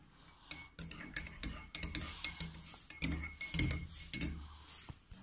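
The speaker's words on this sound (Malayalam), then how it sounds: "ഇപ്പോൾ ഡിഷ് വാഷ് ഇതിലേക്ക് ആഡ് ചെയ്ത് നന്നായിട്ട് മിക്സ് ചെയ്യാം." Dish wash soap being stirred into homemade bubble solution, a quiet series of clinks and taps of a utensil against a container in an irregular rhythm, close by with no talk.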